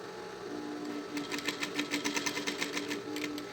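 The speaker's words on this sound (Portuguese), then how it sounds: "A gente vai fazer só uma costurinha de segurança." A sewing machine runs a short seam through a synthetic leather pencil case, its needle making a quick, steady mechanical patter that starts, speeds into even stitching and stops, close and clear with no talking.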